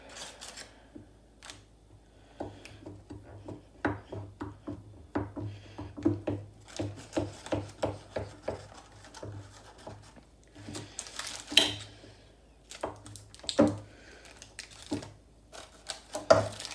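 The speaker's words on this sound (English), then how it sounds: "So there, I cut it into about 8 bars." A knife slices through a baked slab of chocolate chip oatmeal peanut butter protein bar with firm edges, giving irregular close taps and crunches spread over the whole stretch, quiet and without speech.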